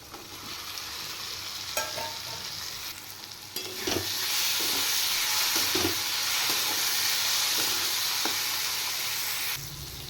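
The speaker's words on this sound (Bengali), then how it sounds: "এবার মশলাটা ভালো করে কষিয়ে নেব এবার দিয়ে দেব ভেজে রাখা আলু" Spices and fried potatoes cook in a pan, making a steady sizzle and hiss. Occasional scraping stirs sound close by, and the frying grows louder and denser partway through with no talk over it.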